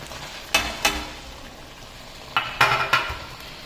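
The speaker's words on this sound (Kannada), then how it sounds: "ಇವಾಗ ಇದಕ್ಕೆ ಮಶ್ರೂಮ್ ಹಾಕ್ಬಿಡ್ಬೇಕು" Mushrooms frying in masala for a mushroom gravy, a low sizzle punctuated by sharp clanks of a metal spoon against the pan in two quick clusters, close and without talk.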